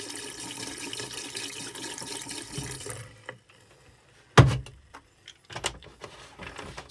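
Compressed air blows through an RV kitchen sink faucet as a steady rushing hiss, then cuts off, leaving a few sputtering bursts and clunks.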